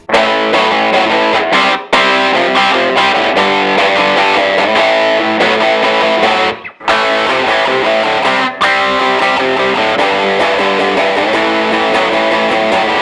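An electric guitar plays through a Tube Screamer-style overdrive pedal set to mimic a Boss Super Overdrive, thick and sustained chords ringing loudly with a couple of brief pauses between phrases.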